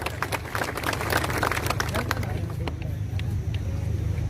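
A crowd claps at a Muslim reservation protest rally in Beed, with dense clapping loudest in the first couple of seconds and then thinning out under ongoing voices and a low background rumble.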